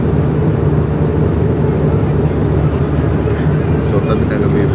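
Steady loud roar of an airplane cabin during a flight to Tawang in Arunachal Pradesh, a dense broadband engine drone filling the space continuously without break.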